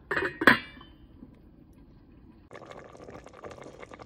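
A metal lid clanks sharply onto a cooking pot of pinangat na isda, a brief loud clatter at the start, followed by quiet and then faint bubbling and simmering inside the covered pot.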